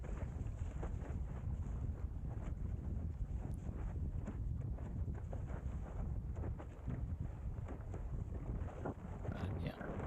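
Gusty wind buffets the microphone while windsurfing on a Windsurfer LT during a race, a continuous loud roar with water splashing against the board throughout.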